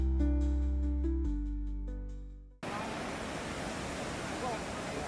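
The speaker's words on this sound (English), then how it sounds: "What you are seeing now is a really special in-cave waterfall." Waterfall tumbling inside a cave on the Chuanzang Middle Line: after a fading musical tone cuts off halfway, a steady broad rush of falling water fills the rest, even and continuous.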